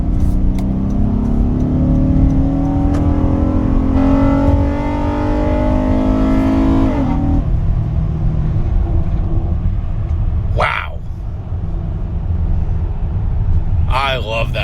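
Honda Odyssey minivan's VTEC engine revs up, its pitch climbing steadily and loudly before dropping as it shifts, then settles into a lower drone while a person talks briefly near the end.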